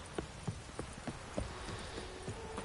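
A horse's hooves clip-clop on the ground in The Witcher 3 video game, a steady walking rhythm of distinct hoof strikes, fairly quiet under a soft ambient background.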